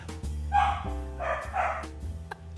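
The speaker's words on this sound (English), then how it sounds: "Can you hear my dogs?" Several dogs bark in quick bursts, two loud clusters of yapping barks over a steady background hum, fairly close.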